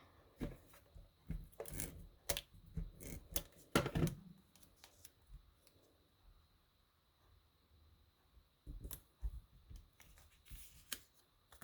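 Paper strips for a card are cut with sharp, close snips and rustling handling noises in bursts, separated by a quiet pause.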